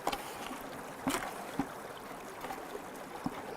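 Water added to a sluice box while panning for gold outdoors, a steady close trickle and wash of running water with occasional splashes and knocks, no talk over it.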